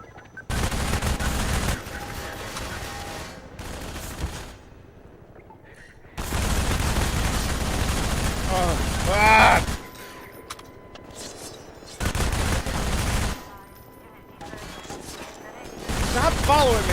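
Rapid gunfire bursts from the Half-Life 2 shooter game come in three loud blocks separated by quieter gaps, with a voice talking in between.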